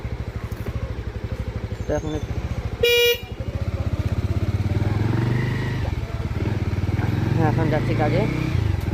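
Motorcycle ridden along a narrow road, its engine putting steadily and loudly throughout, with a sharp horn blast near the start and someone talking over the ride.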